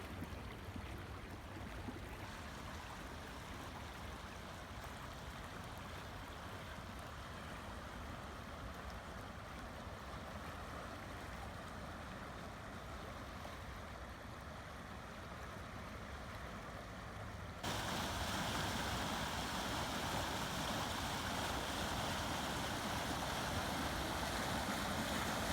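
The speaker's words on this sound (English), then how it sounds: "the creek does have some considerable flooding" Steady rushing water from a flooded creek running through a golf course fills the scene, a continuous broad roar of fast flow that grows louder partway through, with no voices.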